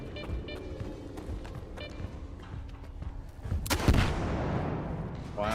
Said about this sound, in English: He's shooting at him at last